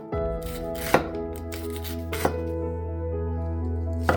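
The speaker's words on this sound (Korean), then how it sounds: "양배추는 얇게 채 썰어주시면 됩니다" A knife slices thinly through cabbage on a cutting board, with a few distinct sharp chops spaced about a second apart over a low steady hum, close and fairly quiet.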